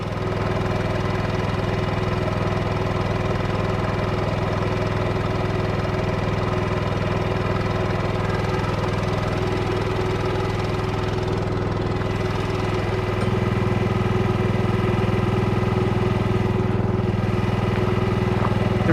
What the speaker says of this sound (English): The resonator softens the exhaust tone. It kind of smooths it out so you don't hear as much of a pulse from it.